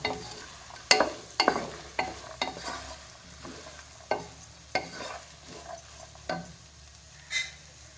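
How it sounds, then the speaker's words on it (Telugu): Chicken frying in a little oil in a home kitchen, with a low sizzle under a series of sharp scraping clacks from a spoon stirring the pan at uneven intervals. "కొద్ది నూనె వేసి ఇదంతా ఫ్రై అయ్యేలోపు"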